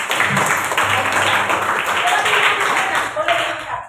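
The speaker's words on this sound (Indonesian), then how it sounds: "tepuk untuk Asifa" A classroom of students claps for Asifa in a lively burst of close hand claps, with voices talking over and around the clapping.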